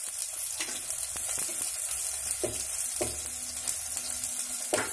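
Chopped onions and coriander fry in four teaspoons of hot oil in a kadai, giving a constant close hiss and sizzle with occasional soft clicks of stirring, no talking.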